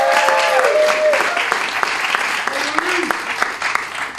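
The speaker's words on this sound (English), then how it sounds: "A bigger round of applause for the DJ." Audience clapping for a DJ at a Laugh-O-Coaster comedy show at Fraser Suites West Bay in Doha: steady, dense applause filling the room throughout, with some tonal music lines briefly audible underneath.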